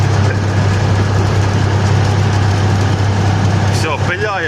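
A truck engine idles with a loud, steady low rumble while a bucket loader fills it, close and continuous, with a brief voice near the end.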